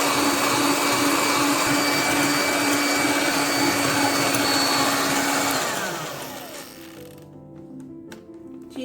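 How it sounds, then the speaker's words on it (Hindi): Electric beater whipping egg whites with sugar for a sponge cake, a loud steady motor whine running continuously, then winding down and fading as the beater slows and stops. "अब मैं थोड़ी सी चीनी डालूंगी और इसे बीट करूंगी।"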